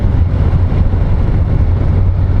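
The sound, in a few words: Yamaha FJR 1300 motorcycle engine while riding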